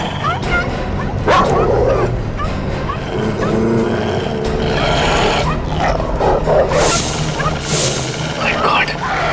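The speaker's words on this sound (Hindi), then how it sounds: "बहुत कुत्ते।" Many dogs barking together in a noisy, continuous chorus of overlapping barks and yips with some whimpering, close and loud throughout, with voices mixed in.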